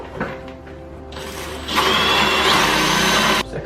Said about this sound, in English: Second hole drilled